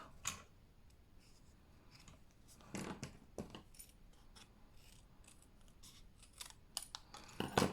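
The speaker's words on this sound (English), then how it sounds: "So I'm just going to trim any excess away" Scissors trimming excess paper on a papercraft box project, a few quiet snips and clicks scattered across a mostly hushed background, close by.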